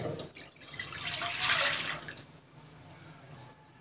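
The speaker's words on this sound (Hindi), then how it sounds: "सबसे पहले पैन में दूध डालेंगे।" Milk poured into a pan for cocktail custard, a splashing liquid pour that builds over about two seconds and then trails off into quieter drips.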